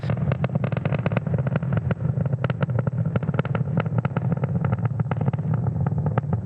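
A SpaceX Falcon 9 rocket carrying Starlink satellites climbing toward Max Q during launch, a loud, continuous crackling roar with rapid popping bursts, steady throughout.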